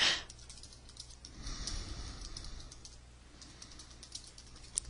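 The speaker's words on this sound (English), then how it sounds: "if I go in and I start typing" Typing on a computer keyboard during word processing, soft irregular clicks and taps close by at low volume, with a faint background hum and no talking.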